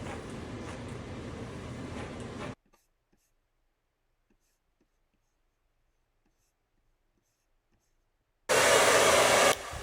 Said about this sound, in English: I then go in with the blow dryer